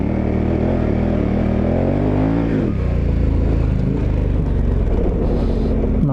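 A dual sport motorcycle on Mitas E07+ adventure tires accelerates in second gear from a slow roll along a dirt road, the engine note climbing steadily and loudly, then dropping sharply as it shifts or backs off before rumbling on.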